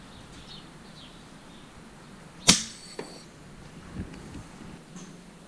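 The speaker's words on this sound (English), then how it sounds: "That's the sound of a Zan 33 grain slug" A faint outdoor hush, then one sharp crack of an air rifle firing a 33-grain slug, followed by a softer distant thwack of impact a moment later.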